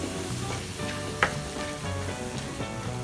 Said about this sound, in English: So now this meat needs to get coated with this red chili and brown.